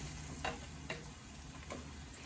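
A spoon stirs and crushes chunky shakshuka tomato sauce in a pan, making a few soft scraping strokes over a faint, steady simmering hiss. Quiet and close.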